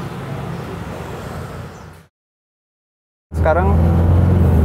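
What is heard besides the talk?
Isuzu Panther car driving, testing for rear rumbling noise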